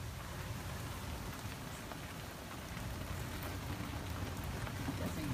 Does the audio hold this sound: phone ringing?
no